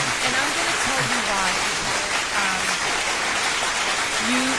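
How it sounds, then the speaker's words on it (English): Sustained crowd applause from a studio audience on a talk show, a dense, steady wash of clapping throughout with faint voices underneath. "Round of applause for that."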